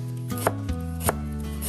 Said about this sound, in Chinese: 再准备一块生姜切片